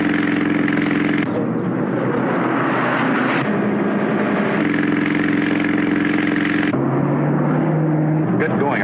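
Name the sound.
car driving during a chase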